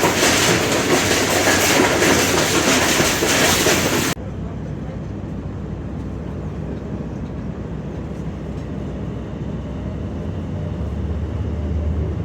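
Karachi Express passenger train runs on the rails, a loud steady roar with rhythmic wheel clatter, sharply quieter after a few seconds but continuing as a close, sustained rumble.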